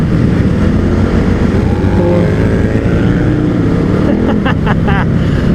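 A KTM 1190 motorcycle rides across a loose, marble-like sandy desert road, its engine droning steadily and loudly throughout amid constant wind noise, with a brief rising flutter near the end.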